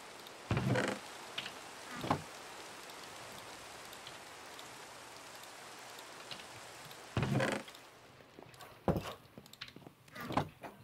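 Steady soft rain hisses in the background of Minecraft gameplay, broken by a few louder whooshing bursts and thuds that come and go.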